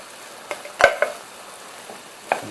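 Chopped tomatoes go into a hot vindaloo-style curry in a pan, giving a few distinct thuds and short stirring scrapes over a faint, low sizzle.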